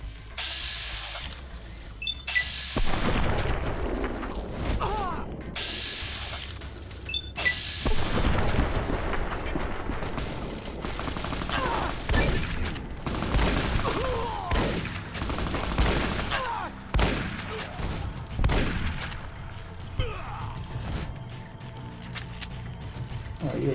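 Gunfire in Fallout: New Vegas comes in repeated bursts and sharp booming shots, loud and close, scattered across the clip with brief gaps between volleys.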